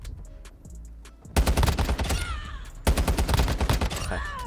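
Rapid automatic bursts from a RAM-9 rifle in Warzone Mobile, loud and close, two long strings of shots separated by a brief pause after a quieter opening.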